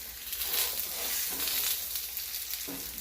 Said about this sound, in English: It's time to stir the potatoes again.